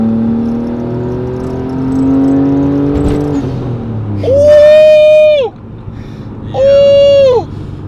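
A tuned car of over 300 horsepower is floored from idle, its engine note climbing in two loud rising pulls that each end with a sharp drop, while people talk over the low idle before the throttle opens.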